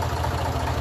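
A Massey Ferguson 35 tractor engine idles at a low tick over, giving a steady, close, even low rumble that runs throughout with no talking.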